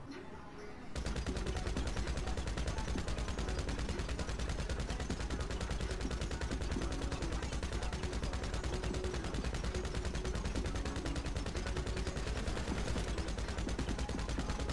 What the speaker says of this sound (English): So, you see that you have a normal spread on your MG in third person.